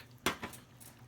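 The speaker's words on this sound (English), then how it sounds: "I'm going to keep stirring this even more." Chili being stirred in a pot, with two quick scraping clatters of a spoon against the pot, close and fairly loud, followed by softer faint clinks.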